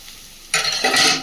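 Spices fry in a pan for a home-cooked meat curry: half a second of near quiet, then a sudden loud, bright sizzle with stirring scrapes close by that holds to the end.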